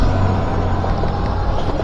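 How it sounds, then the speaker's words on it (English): Heavy road traffic roars past close by, a loud, dense, continuous rush of engines and tires with no gaps. "if you can hear the traffic, it's kind of heavy right now"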